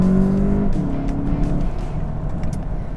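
A VW Jetta GLI 35th anniversary edition engine hums steadily, its tone rising then settling as it accelerates, heard from inside the cabin with a smooth, slightly synthetic drone.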